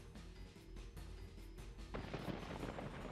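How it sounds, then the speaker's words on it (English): Crossbows loose volleys in the fantasy battle game Warhammer: Shadow of the Horned Rat, making a dense, continuous rumble of battle shots that swells louder and harsher about two-thirds of the way through. "Come on, crossbow, start firing"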